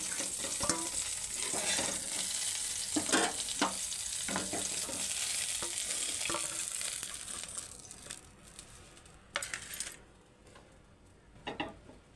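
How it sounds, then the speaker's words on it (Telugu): Eggplant pieces for a stuffed brinjal curry sizzle in a hot pan with steady frying crackle, broken by several louder scraping stirs, the sizzle easing toward the end. "వంకాయలు అయితే కొద్దిగా ఇలా వేగాయి"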